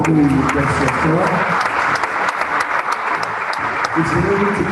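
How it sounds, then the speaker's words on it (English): An audience gives loud, sustained applause for a guest lecturer at a cancer awareness talk, with a voice speaking over the clapping at the start and again near the end. "Another round of applause for the guest lecturer."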